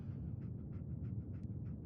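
A dog named Dogmeat in a post-apocalyptic video game panting steadily in quick, soft, rhythmic breaths, close and fairly quiet, with no talk over it.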